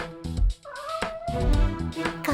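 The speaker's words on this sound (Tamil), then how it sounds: "ஐயோ, காட்டு பூனை." A wild cat in a children's cartoon yowls and meows loudly up close, a drawn-out wavering cry broken by short growly bursts.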